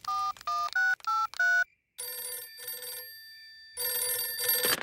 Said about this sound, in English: Talking of home, we'd better phone the king.